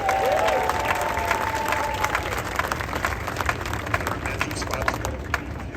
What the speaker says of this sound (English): please give a round of applause for your ACE president